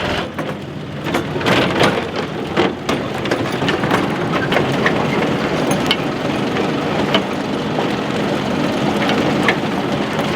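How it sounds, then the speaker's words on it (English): A steady mechanical rumble of a tractor breaking up topsoil outdoors, with scattered crunching and snapping from clods and roots breaking, continuous and fairly close. "what that machine is doing is it's breaking up the topsoil"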